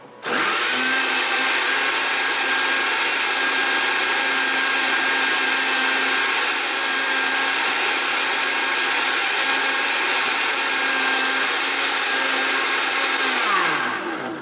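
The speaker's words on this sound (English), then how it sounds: "And I'm going to use the Puree Whip." A Puree Whip blender whips a Soylent drink with ice, running as one steady, loud motor whir for about thirteen seconds and then winding down at the end, with no talking.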